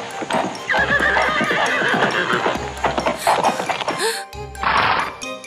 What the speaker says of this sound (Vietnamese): con ngựa nhỏ sợ hãi và nó chạy ra khỏi phòng